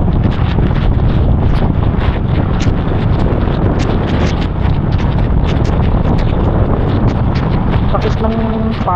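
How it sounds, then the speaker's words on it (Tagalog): Strong wind on a mountain road damaged by a typhoon roars constantly across the microphone, loud and buffeting throughout, with a brief tonal sound near the end. "lakas ng hangin kasi"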